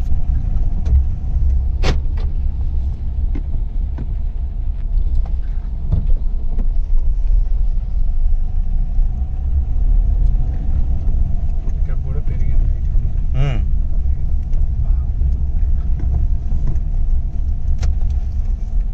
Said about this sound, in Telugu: ఈ 13 ఇయర్స్ ఓల్డ్ ఆటో 800 కార్ అయితే మేము ఏసీ ఆన్ చేసుకొని మరీ వెళ్తున్నాము